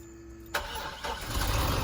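A manual-transmission car's engine starts near at hand, cranking after a quiet moment and then catching into a steady running idle.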